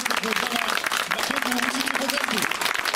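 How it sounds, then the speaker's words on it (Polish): Applause at a lower-league football match between Łysica Bodzentyn and Granat Skarżysko, a steady wash of clapping from the crowd under a voice speaking over a loudspeaker. "szanowni państwo, podwójne brawa dla Adama Dymanowskiego za bramkę"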